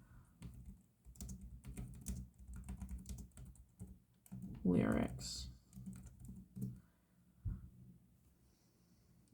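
Quiet clicking of typing on a computer keyboard, irregular bursts of keystrokes close by with some breathing and a brief spoken word.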